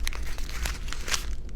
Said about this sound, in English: this is going to make a slight crumple noise